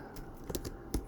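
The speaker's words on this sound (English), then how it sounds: "so we type in active workbook dot follow hyperlink" A short burst of typing on a computer keyboard, with several distinct key clicks close by and no voices.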